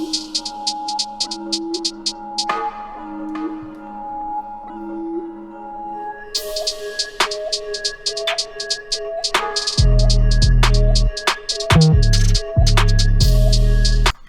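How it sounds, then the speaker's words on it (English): A loud electronic music beat with pulsing synth tones, deep booming bass and quick drum hits and rolls in the background, no talking. "you can hear the little drum work in the background, like the wee rolls and everything."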